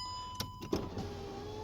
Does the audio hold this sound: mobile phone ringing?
no